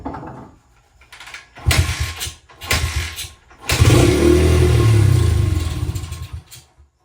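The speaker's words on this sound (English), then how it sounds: "it's running on straight brake cleaner, or carburetor cleaner" A Honda CRF 80F dirt bike engine running on carburetor cleaner sputters through a few short catches, then rises into a rough, loud rev for a couple of seconds before dying away, heard close up with no talking.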